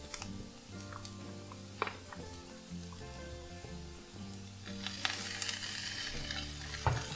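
Chilli powder and tomato sauce sautéing in a pan for a Kerala prawn fry, a steady soft sizzle under a low hum, with occasional spoon clicks and a louder burst of frying near the end.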